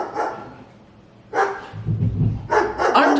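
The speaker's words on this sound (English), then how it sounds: "Our dog is outside the door going crazy" A pet dog barks and whines behind a closed door, muffled bursts coming in two or three fairly loud clusters with a low rumble between them.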